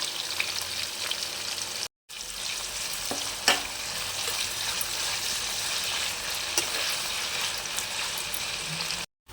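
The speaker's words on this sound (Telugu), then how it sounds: "షాజీరా, కరివేపాకు, ఆనియన్స్, పచ్చిమిర్చి, అల్లం." Onions, shahjeera, curry leaves, green chillies and ginger frying in a pan for tomato rice, a dense, steady sizzle with occasional stirring clicks, close and without talk, briefly cut twice.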